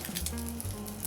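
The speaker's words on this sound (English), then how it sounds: "Listen to the sound, listen to the sizzle." Crab cake of lump crab meat frying in a hot pan, giving a steady hiss of sizzle with soft crackle over a low background hum.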